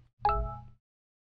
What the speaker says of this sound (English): now you can hear there that that was the text message that just was sent to me